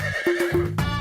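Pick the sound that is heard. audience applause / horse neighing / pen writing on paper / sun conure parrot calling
horse neighing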